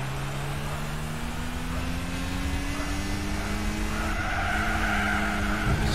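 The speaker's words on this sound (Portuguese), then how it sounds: "Espalhei um pouco, dá uma batida ali no muro" A race car skids with a long tire squeal and engine drone in Gran Turismo 4 during a Tous France championship race, the screech rising steadily and continuous throughout, loud and close.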